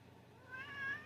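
A house cat meows once, a brief rising, drawn-out call at moderate loudness over a faint steady background hum.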